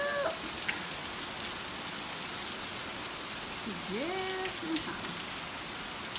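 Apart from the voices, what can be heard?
rain coming down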